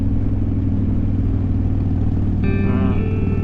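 Harley-Davidson motorcycle on a winter HOG group ride, a steady low engine rumble and wind roar at cruising speed, with a brief tonal whine near the end.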